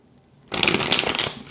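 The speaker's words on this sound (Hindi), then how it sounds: "शफल करते हैं कार्ड्स को." Tarot cards being shuffled by hand, a single close, crisp riffle of papery flutter that starts abruptly after a short quiet moment and runs for about a second.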